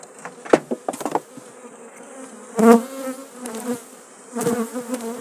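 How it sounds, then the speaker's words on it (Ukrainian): Bees at a hive buzz in short bursts, some passing close and loud, others fainter, with irregular swells of droning over a quiet background. "Ого, ті бджолки треба заспокоювати."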